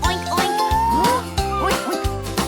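A dog yaps and barks repeatedly in a children's farm animal song about bath time, the barks mixed with sung vocals and music.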